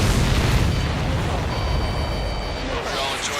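Loud, continuous rumbling blasts from explosions in the flight combat game Ace Combat 7 Skies Unknown, a steady dense roar across the whole stretch with radio chatter blended in.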